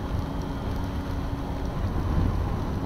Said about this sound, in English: we've hit some rain.